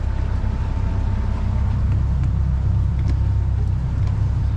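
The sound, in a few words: boat motor running during a water test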